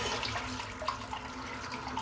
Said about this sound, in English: Just rinsing the soap out in the sink.